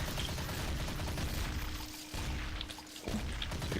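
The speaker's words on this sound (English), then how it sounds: "You can do the same thing with the machine gun. With the minigun. You can just fire" A minigun firing in the game Seal Hunter, a rapid rattling burst of shots running continuously, dropping out briefly near the end, with no talk.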